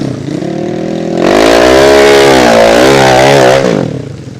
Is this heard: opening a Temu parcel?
no